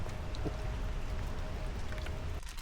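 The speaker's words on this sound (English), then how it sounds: "It's raining so heavily" Dense, steady hiss of heavy rain drumming on a camper van, constant and close, with a low rumble underneath.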